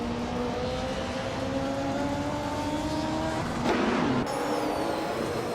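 Race car engines in a racing video game, with a 1994 Nissan 300ZX Turbo among the field, drone steadily at high revs, their whine climbing and shifting, and a brief louder burst as a car sweeps past.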